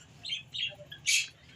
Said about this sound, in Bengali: লাভ বার্ড খেলা করছে।